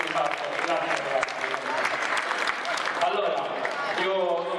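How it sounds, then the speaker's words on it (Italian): Applause from an audience at a Special Olympics day event hosted by a secondary school in Latina, steady clapping filling the whole stretch, with a voice carrying over it. "Ancora un applauso ai ragazzi"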